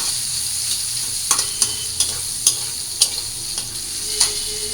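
Garlic paste lightly frying in hot oil, a steady bright hiss with regular scraping taps of a spoon as it is stirred, close and clear.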